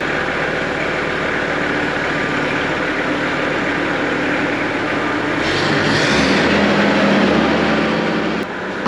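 A tractor engine runs steadily at a work site where timber beams are being erected, a constant close rumble that shifts slightly in tone near the end.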